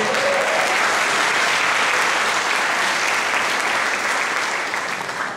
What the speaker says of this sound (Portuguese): Dá uma aplauso para ele.